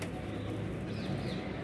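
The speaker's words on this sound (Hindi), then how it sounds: "ये देखें नीचे उतर रहे हैं अभी कबूतर" A flock of pigeons coos and flutters down to pieces of bread set out for them, a dense continuous mix of soft calls and wingbeats heard close and moderately loud.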